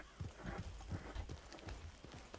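Horse hooves clip-clopping in Red Dead Redemption 2, a quick steady rhythm of soft thuds at a canter, fairly close, with no talk over them.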